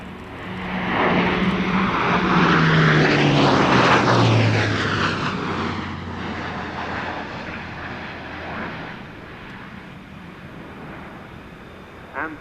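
A display aircraft at the Royal International Air Tattoo sweeps past in a high-speed pass and pulls up, its engine roar swelling loud with a falling pitch as it passes, then thinning into a distant, fading drone.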